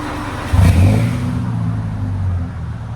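A 2011 Subaru Legacy 2.5L with a Magnaflow Magnapack mid muffler, rear muffler delete and dual exhaust gives a short rev, a deep throaty burst rising and then settling into a steady loud rumble close by.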